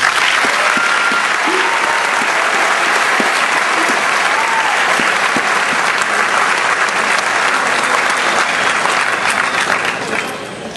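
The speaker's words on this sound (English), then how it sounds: "let's give them a warm round of applause" Audience at a Hanover Area High School Class of 2012 graduation ceremony applauds steadily and loudly, a dense, sustained wash of many hands clapping that holds for about ten seconds before easing slightly at the end.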